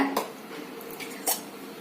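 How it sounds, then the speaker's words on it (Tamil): Two short metallic clanks come from a wok being set down on a stove, close and fairly quiet, with a faint hush between them. "வாணலி அடுப்புல வச்சுக்கோங்க."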